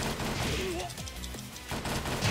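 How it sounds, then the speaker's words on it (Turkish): SMG gunfire in the fighting game Tekken 7 comes as a dense, rapid burst of shots, with a brief lull in the middle before the firing picks up again amid game sounds. "SMG ile adam öldürüyorum ya."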